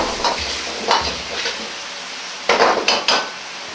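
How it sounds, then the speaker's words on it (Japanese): A pan of mapo daikon simmering and sizzling as a tablespoon of potato starch slurry is poured in while the pan is shaken, with a few soft clinks and scrapes of utensils against metal. "大さじ1の水溶き片栗粉を鍋を揺すりながら流し入れます。"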